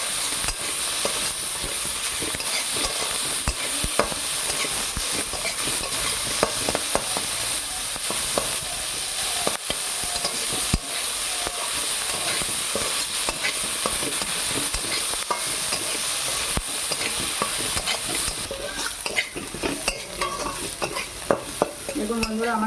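Red amaranth greens sizzle steadily in a hot pan for the whole stretch, with frequent scraping stirs and light clinks of a utensil close by; no talking.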